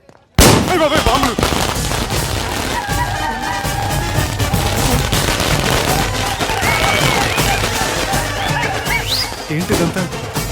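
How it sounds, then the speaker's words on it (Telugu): A rapid, continuous barrage of bomb blasts and cracking bangs that starts abruptly and keeps going for several seconds, loud and dense, with voices heard among the explosions. "అయ్ బాబాయ్, బాంబులు!"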